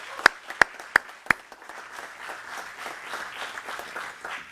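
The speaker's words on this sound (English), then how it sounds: "Let's give him another round of applause." Applause at a mayor's press conference announcing a new deputy mayor, opening with a few sharp loud claps near the microphone, then a softer spread of crowd clapping that carries on to the end.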